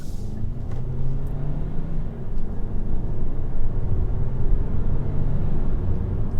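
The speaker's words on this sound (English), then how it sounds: "The engine's quite high revving" A 2023 Kia XCeed PHEV's 1.6-litre petrol engine pulls away from a T-junction, a steady low droning rumble that rises and holds as it revs under acceleration, with no voices.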